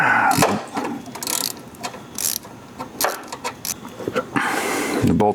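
Ratchet wrench turning charging-system bolts on a Porsche 912, a series of quick clicking bursts spread across the clip, close and fairly loud, with short gaps between them.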